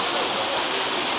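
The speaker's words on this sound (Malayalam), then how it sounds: "ലാസ്റ്റ് ഫൈനലി വെള്ളച്ചാട്ടത്തിൻ്റെ അടുത്ത് റീച്ച് ചെയ്തിട്ടുണ്ട്" Waterfall at Wadi Dafta in Masafi, fed by water released from a dam upstream, roars as a dense, steady rush of falling water close by, filling the whole moment with no voices.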